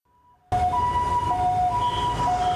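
An ambulance siren wails close and loud on a Taiwanese national highway as the vehicle carries a premature baby between hospitals with police escort, its steady two-tone cry starting suddenly over the rumble of road traffic.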